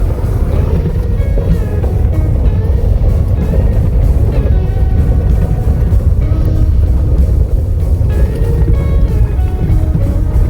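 A car drives along a mountain road beside the Indus in India, its engine and tyres making a loud, steady rumble with wind noise that runs unbroken throughout, close and without talk.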